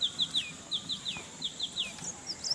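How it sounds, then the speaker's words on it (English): Small birds calling in a quiet village, a quick series of repeated high chirps and swooping whistles, fairly close and clear over a soft outdoor background with no talking. "Yeah, just the sound of the birds."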